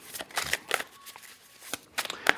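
Stiff tarot cards are shuffled by hand in a series of short, crisp riffling and slapping bursts at close range, with brief pauses between them and no talking.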